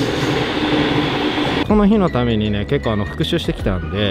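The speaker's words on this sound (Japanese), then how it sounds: "ちょっと電車うるさいですね、すいません。" Train rumbling past nearby with a loud, steady roar that cuts off abruptly, after which someone talks over a quieter background.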